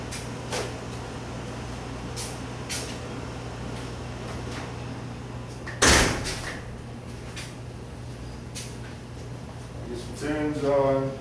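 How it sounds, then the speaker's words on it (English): A second sliding mosquito screen door closes indoors with a single sharp knock or thud, set against a steady low hum and a few faint clicks. "Let me close the other mosquito door."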